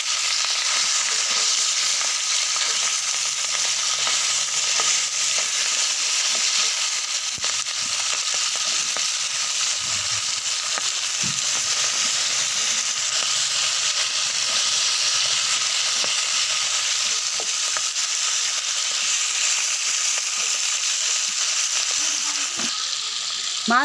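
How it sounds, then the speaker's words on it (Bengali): Katla fish frying in a pan and being broken into pieces for a muri ghonto dish, with a steady, close sizzle of hot oil and faint stirring and scraping running throughout. "মাছ ভাজা হয়ে গেছে, মাছ একটু ভেঙে ভেঙে দিব,"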